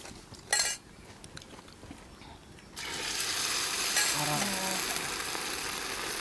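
Onion dropped into hot oil in a pan at an outdoor cooking spot by a well, giving a steady broadband sizzle after a brief clatter, with a few soft utensil clinks over it.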